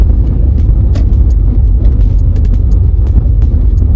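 A car pulls away and turns into its lane on a residential street during a driving test in Saskatoon, heard from inside as a steady, close engine and road rumble with no talking.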